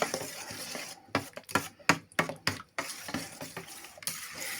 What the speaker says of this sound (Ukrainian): Все це добре розмішуємо.